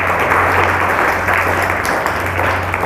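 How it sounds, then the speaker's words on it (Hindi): Children at a youth camp at a gurukul clap for themselves in loud, close, continuous applause, with a low hum running underneath. "अपने लिए ताली बजाओ"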